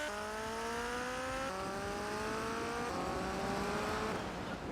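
Motorcycle engine from GTA Vice City, a steady buzzing drone with harmonic whine that steps up in pitch as it shifts gears, continuous and close throughout.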